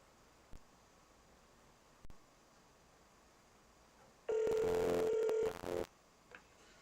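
A phone call placed to a VA hospital: a few faint clicks, then a loud steady dial or ring tone lasting about a second and a half, followed by short clipped tones.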